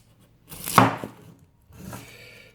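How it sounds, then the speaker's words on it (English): A knife chops an onion on a board: two distinct cuts, the first sharper and louder, the second softer, in a quiet kitchen. "Just going to cut up an onion."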